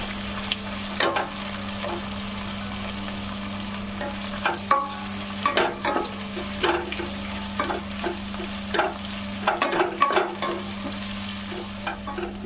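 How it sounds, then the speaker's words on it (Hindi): Onions fry in a pan for chicken bhuna masala, a continuous sizzle broken by repeated scraping stirs that come in irregular bursts, close and fairly loud, with no talking. "प्याज हमारा भुन रहा है।"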